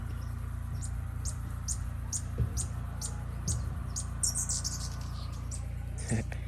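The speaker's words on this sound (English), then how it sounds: "listen to that call. It has this really crazy sound." A sparkling violetear hummingbird at the Quito Zoo gives a repeated, rhythmic series of sharp, high chirps over a steady low hum of background noise.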